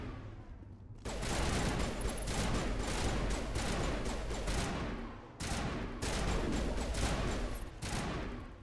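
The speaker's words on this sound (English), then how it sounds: "Probably even a third one since she's shooting at something." Rapid sustained gunfire in the sci-fi shooter Mass Effect Legendary Edition, two long loud bursts of crackling shots separated by a brief pause, close and dense with no talking.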